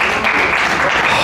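Brief applause rises from a comedy show audience as couples married over 55 years clap, a short dense burst of hands with crowd voices underneath.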